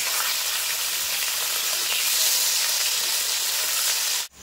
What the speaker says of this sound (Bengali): মাছগুলো এবার উল্টে দেব। এক সাইড ভাজা হয়ে গেছে। একটু কড়া করে ভাজতে হবে এই রান্নাটার জন্য।